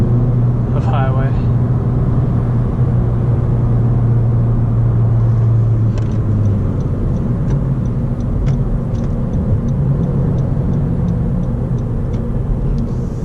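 Steady low road rumble of a 2017 Honda Civic Si four-door on a highway, engine and tire noise filling the clip, with a brief voice early on and faint clicks later.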